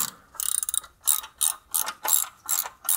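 A ratchet wrench loosens 6 mm valve cover bolts on a 1.8T engine, giving close, crisp clicking in short repeated bursts, one quick rattling run followed by several slower strokes.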